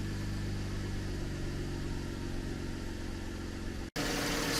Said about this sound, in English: This engine is quiet.